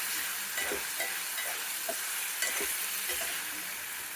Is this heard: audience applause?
no